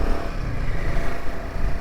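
An adventure motorcycle cruises along a coastal road in Konkan, its engine giving a steady, close, droning hum mixed with wind rush and no clear rise or fall in revs.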